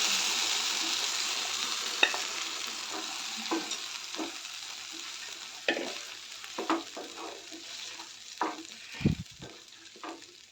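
Hot frying sizzle hisses steadily while a spoon scrapes and stirs cooked khichdi through hot tempering in several irregular strokes, close by.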